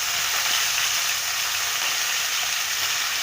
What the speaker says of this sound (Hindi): मछली का सिर जो है वो अच्छी तरह से फ्राई हो जाए